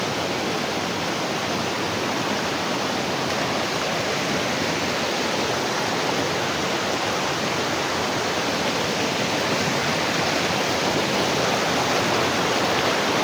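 A creek flows in a steady, loud rush of water that stays unchanged from start to finish, with no voices.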